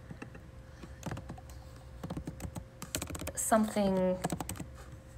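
Computer keyboard typing in quick irregular bursts of clicks, close and moderately loud, with a person talking over the keystrokes.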